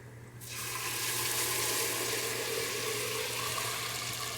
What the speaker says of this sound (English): Take your tomatoes, and you're going to get ready to pour these in.